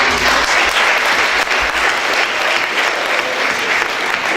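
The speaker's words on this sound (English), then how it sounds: "Big round of applause to Roger for all he did" A presentation audience gives a round of applause for Roger, a dense steady clapping that stays loud throughout with no break.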